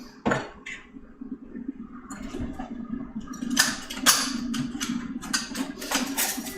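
A small bowl comes out of a kitchen cupboard: ceramic dishes knock and clink against each other in a short flurry of bright, close clatter, with a faint background hum.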